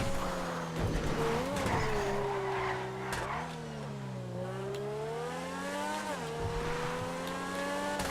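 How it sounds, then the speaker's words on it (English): Grotti X80 Proto supercar in GTA 5 spinning out and doing donuts, a loud sustained engine drone rising and falling in pitch with continuous tire squeal throughout. "It doesn't do a quick turnaround in with the e-brake like I'd like it to, but it does spin out and do donuts nicely."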